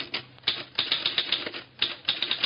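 Rapid typewriter keystrokes in a radio drama newsroom scene, sharp clacks in quick irregular bursts, close and alone.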